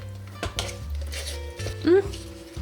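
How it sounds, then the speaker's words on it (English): A fork mashing and mixing a milk mixture in a bowl for Swedish semlor, with repeated scraping clinks against the dish and a brief ringing tap, close up. "I think I'm going to mix with a fork here so it's more like mashing"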